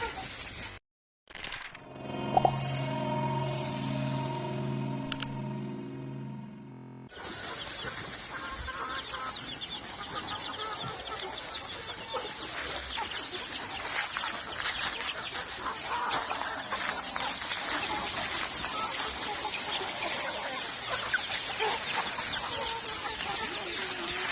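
Hens clucking and murmuring steadily on a poultry farm, a busy flock heard at moderate distance with a short electronic chime sequence at the very start before the birds take over.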